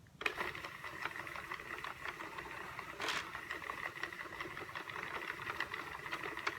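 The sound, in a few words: Sentro knitting machine knitting yarn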